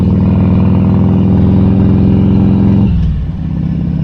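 A motorcycle rides along country roads in the Dordogne and Lot, its engine holding a loud, steady drone close by before the pitch and level drop sharply near the end as it eases off.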